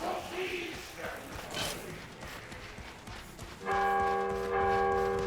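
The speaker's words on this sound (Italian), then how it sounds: "Vai, suona le campane, Ravi." Church bells ringing in the fantasy video game Vermintide 2, preceded by muffled clattering and in-game noise; then sustained bright bell tones ring out loudly from near the end.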